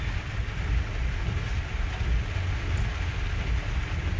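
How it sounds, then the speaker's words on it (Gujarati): Heavy rain pouring in Gujarat, a dense, steady wash of rain noise with a deep rumbling undertone, even and unbroken throughout, no voices. "હિતેશભાઈ છોટા જણાવી રહ્યા છે, ચુનાળાવાર વિસ્તારમાં અત્યારે ધોધમાર વરસાદ વરસી રહ્યો છે"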